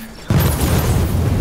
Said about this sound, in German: Der ist einfach explodiert, ja.